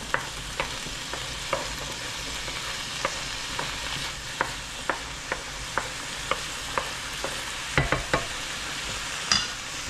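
Fish and vegetables simmering in sauce in a pan, giving a steady bubbling sizzle broken by regular soft clicks and taps of stirring, close and moderately loud, with no talking.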